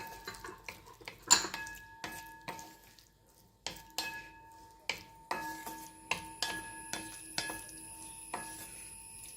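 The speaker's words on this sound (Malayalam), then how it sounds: "ടൊമാറ്റോ സോസും ഒഴിച്ചു കൊടുക്കാം നന്നായി ഒന്ന് ഇളക്കി യോജിപ്പിച്ചെടുക്കാം" A spoon scrapes and knocks against a pan while soy sauce and tomato sauce are stirred into a dragon chicken mixture, giving sharp irregular clinks and taps over a low sizzle.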